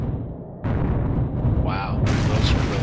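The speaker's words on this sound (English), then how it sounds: "those are those Inferno rockets" Inferno rockets in a video game burst in rumbling, booming blasts that layer over one another, loud and close, with a brief whistling streak partway through.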